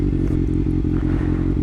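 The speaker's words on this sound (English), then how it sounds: "Get a nice little exhaust check here." Kawasaki ZX6R 600cc sport bike with a freshly flashed ECU, its exhaust running at a steady, throaty idle with a rapid pulsing rhythm, close and loud throughout, with no talking.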